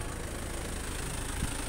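Engine idling with a steady, low vibrating rumble throughout, briefly close and fairly quiet, no other sounds.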